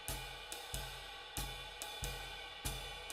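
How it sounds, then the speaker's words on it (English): Drum kit swing pattern played with every note accented, forceful uniform cymbal strikes in an uneven lilting rhythm, loud and close with ringing wash between hits, no voices. "Here's an example of what your swing pattern should not sound like, because everything is being accented."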